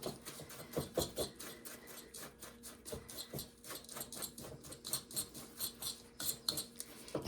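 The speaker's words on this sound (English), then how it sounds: "I just want to mix all these things up together." Dry crumb-topping ingredients for a rhubarb crunch being stirred in a bowl, with a steady run of close, soft scraping and gritty pattering strokes and no talking.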